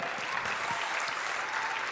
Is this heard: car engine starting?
no